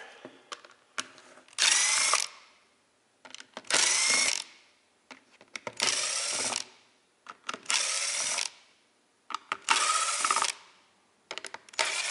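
A power driver whirs in five short bursts of about half a second each, separated by pauses filled with small clicks and handling noises, while screws are removed from a submersible pond pump being taken apart.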